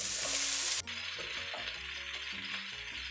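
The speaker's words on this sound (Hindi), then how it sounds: "अब इनको मिक्स करने के लिए हमें 2 चम्मच चाहिए, इस तरह ये मिक्स होंगे।" Spaghetti and vegetables tossed together in a hot pan with two spoons, giving a steady close sizzle and frying hiss with light scraping and stirring clatter throughout, no voices.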